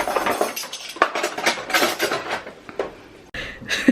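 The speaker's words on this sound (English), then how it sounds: "Let me grab some cutlery." Cutlery grabbed from a drawer at dinnertime, a quick cluster of metallic clinks and clatters close by, irregular and bunched, with a short pause near the end before a last few knocks.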